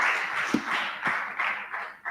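An audience at an innovation pitch competition applauding, a soft, distant patter of clapping in uneven waves with a couple of nearer claps standing out.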